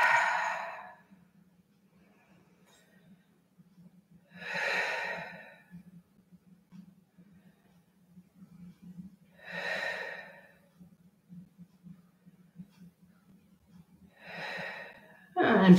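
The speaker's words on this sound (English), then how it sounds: "I'll take about 5 breaths here." Deep, slow yoga breaths, four long inhales or exhales spaced evenly several seconds apart over a faint steady low hum, close and clear with quiet gaps between.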